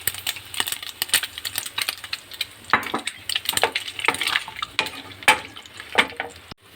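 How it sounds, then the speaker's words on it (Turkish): Sheep tail fat frying in a pan for a liver kavurma, giving a steady crackling sizzle with frequent sharp pops and spits, close and fairly loud, with no talking. "yağı iyice kızarttım. Kuyruk yağı."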